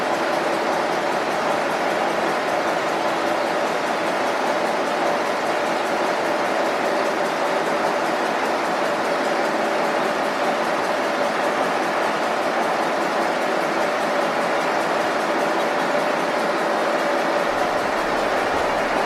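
A Cooper-Bessemer GMV-10 1350 horsepower engine runs steadily and loudly close by, a dense continuous mechanical roar with an even firing drone and no talking.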